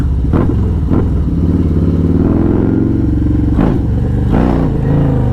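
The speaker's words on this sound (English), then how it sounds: "As soon as I roll onto the throttle in first gear, it just lifts the front wheel up." A Harley-Davidson Road Glide pulling away hard in first gear, its engine roaring loudly and close with rising revs, a couple of brief clattering bursts breaking in.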